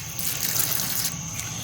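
Water runs down the window of a Mercedes onto the cowl below, a steady close splashing hiss that continues without a break.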